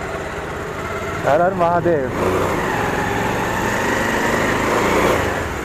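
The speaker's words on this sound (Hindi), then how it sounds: "गाड़ी थोड़ा स्टार्ट रहे, इंजन गर्म हो जाए फिर ठीक है।" A motorcycle engine idles steadily while warming up before a ride from Dehradun toward Tehri Dam, a continuous close hum heard throughout, with a short spoken chant over it near the start.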